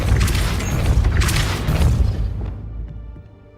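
A heavy, booming Depulso spell blast in Hogwarts Legacy, a loud rumbling impact that sustains for a couple of seconds and then fades into quiet.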